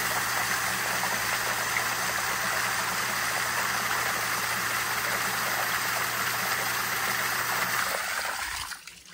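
A swimming pool filter pump runs a rinse cycle, a loud steady whooshing rush of water and motor hum that holds constant, then cuts off abruptly just before the end.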